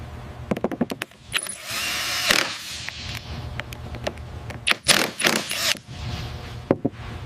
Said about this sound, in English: Torquing the final antenna mount bolt now.